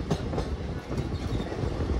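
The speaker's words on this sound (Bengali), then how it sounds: "এই ব্রিজের এক পাশে এই যে ট্রেনে যাচ্ছি" The 13141 Teesta Torsha Express rumbles across a bridge, heard from on board as a loud, steady roar with rhythmic wheel clatter, close and continuous throughout.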